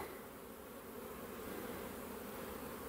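Honeybees circle in orientation flight in front of their hive, a dense steady buzzing swarm heard close and continuous without voices.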